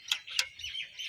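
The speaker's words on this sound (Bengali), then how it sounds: "পাখিগুলো ডাকছে" Small birds near a cowshed give short, bright chirps, two sharp calls followed by softer twittering, faint and moderately near with no talk.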